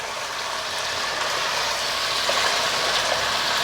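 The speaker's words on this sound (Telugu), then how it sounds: "నూనె పైకి వచ్చేస్తే ఇంకా వేగిపోతాయి" Chicken pieces deep-frying in hot oil, a steady dense crackling sizzle that holds at an even, fairly loud level throughout with no voices over it.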